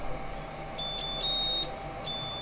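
A Flashforge Guider II 3D printer beeps during bed levelling: a thin, high electronic tone that comes in short repeated bursts, then holds longer and steadier, over a low background hum.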